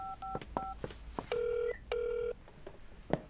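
A telephone number is dialed on a landline, a quick sequence of short touch-tone beeps followed by two longer steady tones, close and clear in a quiet room.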